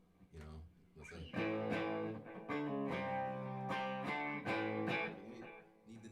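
Distorted electric guitar chords, a series of loud sustained crunchy strums with short gaps between them, heard up close with no talking.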